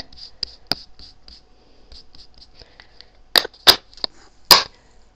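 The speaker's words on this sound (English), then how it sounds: "I'll just run some ink on it so you can see it better" Ink roller run over embossed cardstock after a Cuttlebug die-cut pass, giving soft rhythmic rolling ticks followed by several louder close scraping and clicking strokes, with no talk.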